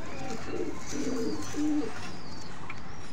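A closed-tail pigeon coos in a few soft, throaty bursts close by, with low background hum and no talking.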